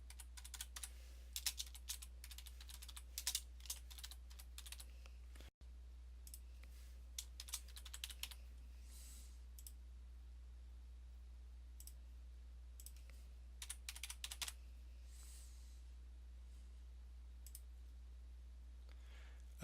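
Keys clack in quick bursts on a computer keyboard while an online grant application form for truck driving school is filled in, with short pauses between runs of typing and a quiet room behind.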